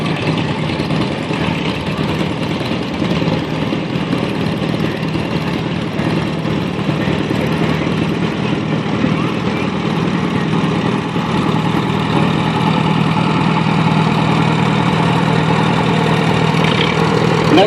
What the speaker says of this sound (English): Next we have a 1940 Alice Chalmers B, owned by Jack Miltenberg